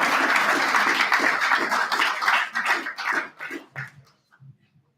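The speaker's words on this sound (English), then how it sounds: "one more round of applause for Sam" Applause for a young speaker at a Pasifika Fusion 2024 speech event: a room of clapping hands rings out steadily, then thins to a few scattered claps and fades out toward the end.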